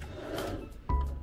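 A wooden drawer in a beach-front hotel room in Boracay slides open with a short rubbing scrape and ends in a dull thunk, close by and fairly quiet, with no talking.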